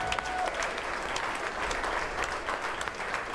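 An audience at a contest applauds steadily, a dense wash of clapping hands sustained at even loudness throughout, with no voices standing out.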